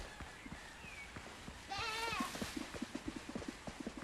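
Nanny goat bleating in the video game Windrose, a single wavering, nasal bleat rising out of faint ambient noise, followed by soft rhythmic thumps.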